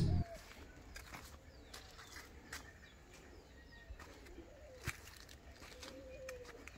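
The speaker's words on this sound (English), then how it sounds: "there are a lot of pigeons and other birds present in this place" Scattered bird calls and soft pigeon coos carry across quiet harvested farmland at an eco resort, faint and intermittent over a calm outdoor background, with a brief bump at the start.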